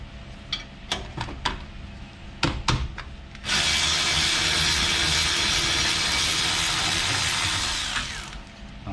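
A power tool backs out the T7 Torx front brake caliper pins on a 2014–2021 Jeep Grand Cherokee. Several sharp clicks and taps come first, then a steady, close whirring that runs for about four and a half seconds before it stops.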